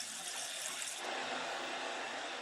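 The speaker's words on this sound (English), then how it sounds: "the rain pours down, it's hitting the hot ground, and steam is rising up" A downpour of heavy rain strikes hot ground in an unbroken, even wash of hiss, fairly close and constant from start to finish with no other sounds.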